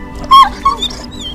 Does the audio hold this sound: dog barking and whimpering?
yes